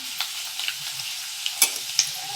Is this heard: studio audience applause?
no